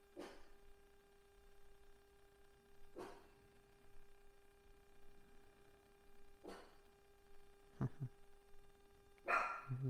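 Dogs bark in short isolated bursts from some distance, a handful of yaps spread across a quiet indoor setting with a faint steady hum underneath.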